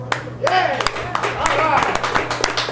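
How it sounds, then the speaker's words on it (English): A small crowd of guests at Campiti's pizzeria in Pittsburgh applauds for a few seconds. Dense clapping sits under a voice speaking over it, with bright hand claps near the microphone. "How about a round of applause for Campitis and Nick?"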